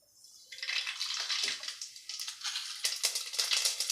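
Mustard seeds crackle in a spoonful of oil in a bronze pot for rice upma, a close sputtering hiss with uneven bursts of popping that grows louder toward the end.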